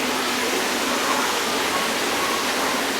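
Steady broadband rush of water from a hose flushing across a fish house floor, continuous and close, with no voices.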